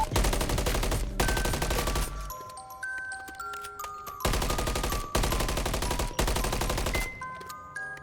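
Rapid burst-fire gunshots in a first-person shooter, several loud crisp bursts each lasting about a second, separated by short gaps filled with ringing hit-marker tones and pings.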